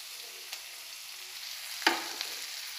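Chopped onion frying in a pan with chilli paste, a soft steady sizzle with a couple of sharp stirring clicks and scrapes partway through.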